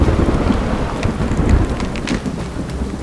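Thunder with steady heavy rain forms the storm backdrop of a mythological horror audio drama: a dense, continuous hiss of rainfall over low rolling rumbles, fairly loud and close, with no voices.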